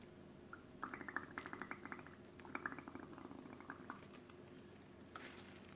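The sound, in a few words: blowing bubbles into watercolor paint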